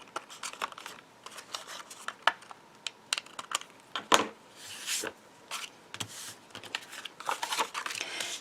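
Paper card border being trimmed during a card-making craft session, heard as a scattered series of crisp, close snips and paper rustles with no talking.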